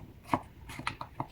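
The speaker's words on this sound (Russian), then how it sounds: "Кабачок молодой буду использовать только половинку. Режу тоже небольшими дольками." A knife chops half of a young zucchini into small pieces on a board, about five crisp, separate cuts at an irregular pace, close and clear with no talking.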